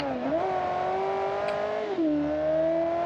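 A Kiev Motors 10 with a 2-liter, 220-horsepower engine from the late 1970s or early 80s revs in the BeamNG driving game. The engine climbs to a high, steady whine, holds it, then dips slightly and carries on, loud and close.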